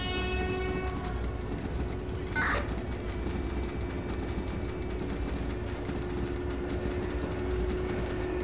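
In the video game Train Driver 2, a train runs through a station with a continuous rumbling roll and a short horn blast early on, close and steady throughout.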